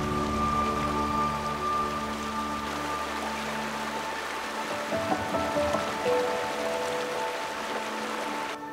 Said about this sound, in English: Delicious mountain stream water.